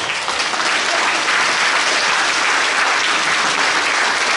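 Steady, dense applause from a live audience at a speech event in Asheville, filling the space evenly with no talk over it.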